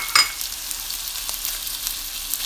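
Longganisa sausage and onion frying in a pan, giving a steady soft sizzle with a brief sharp crackle at the start and light stirring clicks throughout.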